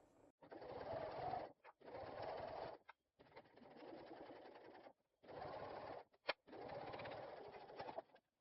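A sewing machine stitches a colour-blocked cotton wristlet strap in five long, steady runs with brief pauses between them, close and clear, with no voices.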